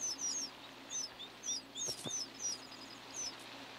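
Small birds chirp in short, high, repeated bursts against a quiet outdoor background in Texas cross timbers woodland, the calls coming every half second or so.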